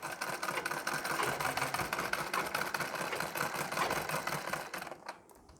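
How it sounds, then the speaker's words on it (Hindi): Sewing machine running a straight stitch along about three inches of a blouse seam for a Nauvari saree blouse, a steady dense mechanical whir that holds evenly and stops abruptly near the end, with no talking. "लगभग 3 इंच जितना भाग हमने बिल्कुल सीधा सिलाई लगा लिया है"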